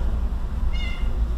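A single short meow from an unhappy cat, heard close over a steady low background rumble, with no talking during the call.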